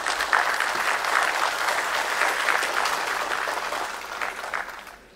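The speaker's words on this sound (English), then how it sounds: "Big round of applause, Vicky, please." Audience applause at a film festival award ceremony in India, sustained clapping from a crowd held steady for about five seconds before tapering off at the end, with no speech over it.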